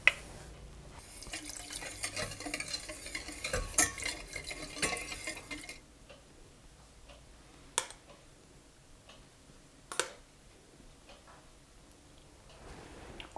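A spoon stirs and scrapes briskly in a pot of cake glaze with sugar and water for several seconds, followed by quiet stillness broken by two sharp clinks.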